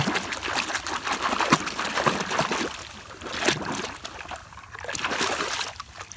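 A muddy toy fire truck being washed with water: continuous splashing, trickling and sloshing in close, uneven bursts with no talk.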